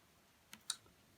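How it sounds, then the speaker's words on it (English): Two quick, faint clicks of cutters snipping blue electrical wire for a model railway, a tiny snap following a light tick in a quiet room. "we need to cut some more blue wire"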